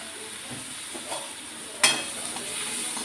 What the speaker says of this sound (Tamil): போட்டு நல்லா வதக்கிடணும்.